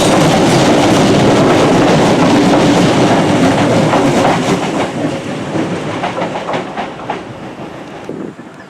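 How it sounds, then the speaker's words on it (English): A 40-year-old Scottish passenger train rumbles loudly along the rails with rhythmic clickety-clack, the roar easing slightly as it continues. "these trains have been in service for 40 years"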